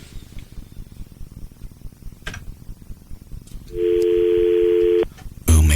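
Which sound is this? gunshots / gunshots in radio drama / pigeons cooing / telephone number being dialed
telephone number being dialed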